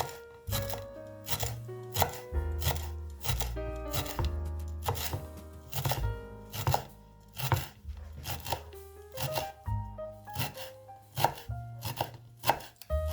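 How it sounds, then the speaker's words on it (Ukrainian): A small bunch of fresh herbs is finely chopped with a knife on a board, rapid rhythmic blade taps repeating steadily and close up, with no talking. "Дрібно ріжу."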